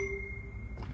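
A higher metallic ring from a shorter pipe already sounding, sustaining briefly before dying away, followed by a faint soft knock.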